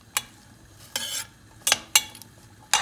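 Carrots and other vegetables being sautéed in a soup pot, with several sharp scraping stir strokes and utensil clinks spaced irregularly over a faint background sizzle, close and fairly loud.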